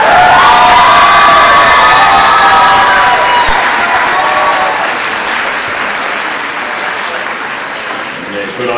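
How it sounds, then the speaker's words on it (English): Applause and cheering from a large crowd at a school college commitment ceremony, loud and sustained with whoops and shouts at first, easing slightly toward the end. "let's give them one big round of applause"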